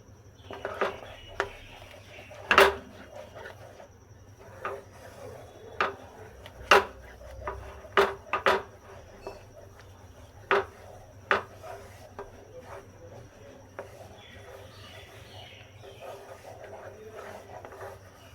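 Mango jam is stirred in a pan, with sharp, irregular knocks and clacks of the spoon against the pan over a low, steady hum, loud and close, and some faint talk in the background.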